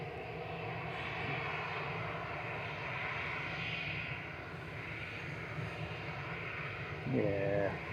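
EasyJet airliner at Manchester Airport, a continuous, fairly distant engine drone with a steady hum, a brief tonal burst near the end, and faint voices in the background.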